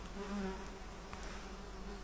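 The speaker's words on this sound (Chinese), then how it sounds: "让你们看一下蚊子有多少。" Swarms of mosquitoes in a sunny spot of the Greater Khingan primeval forest give a faint, steady, close insect whine that runs unbroken under a low background hum.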